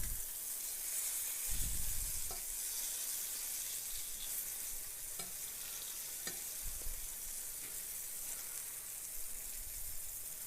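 Chicken fries in a pan on a home stove, giving off a steady, close sizzle and crackle throughout, with occasional soft clinks and shifts and no talking.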